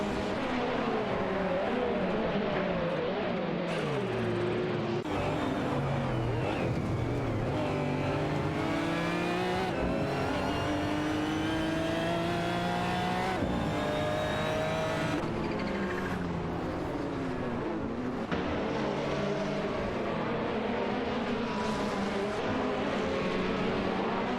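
Race cars including a Ferrari 488 GT4 battle on a track, engines loud and continuous with repeated revving, rising and falling pitch as cars accelerate and shift, several cars overlapping, no talk.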